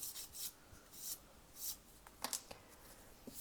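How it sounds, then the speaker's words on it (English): A nail file rasps along the free edge of a fingernail, shaping it between oval and almond. Several soft, close strokes come in a loose rhythm with faint scratchy ticks between them, and no one talks. "starting at the corner of the smile line, I'm going to file up towards the middle of that free edge"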